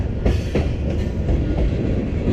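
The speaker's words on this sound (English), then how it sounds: "here's a train here" Train rolling past nearby, a steady low rumble with rhythmic clickety-clack of wheels over rail joints, moderately loud and without talk.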